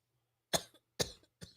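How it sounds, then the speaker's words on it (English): A person coughs three times in a row, each a sharp, close burst with a brief rough tail, against an otherwise quiet background. "Stop coughing."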